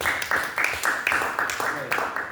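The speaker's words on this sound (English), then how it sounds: "We're all going to clap for you again." Audience applause at a viola masterclass, a dense run of clapping from a small group, moderately loud and steady for a couple of seconds.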